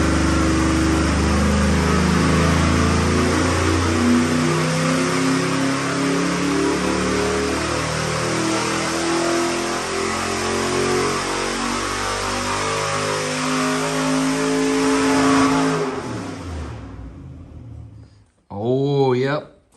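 Small-block Chevy V8 on an engine dyno, held at a loud steady high-rpm roar for about fifteen seconds, then cut off and winding down, followed by a brief short rev near the end, close and powerful.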